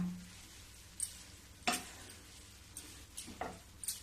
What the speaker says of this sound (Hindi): जब तक ये गोल्डन नहीं होगी तब तक मैं इसको भूनते रहूंगी